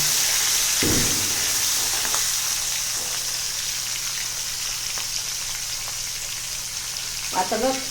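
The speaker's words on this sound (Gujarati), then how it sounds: "આવી રીતે આપણું રાઈ જીરું તતડે પછી આપણે તેમાં 2 નંગ મૂળા મરચાં લેવાના છે ને લીમડો લેવાનો છે." Radish, green chilies and curry leaves hit hot oil with crackling mustard and cumin seeds for a Gujarati kadhi tempering, a steady close sizzle with a few spoon stirs and clinks near the end.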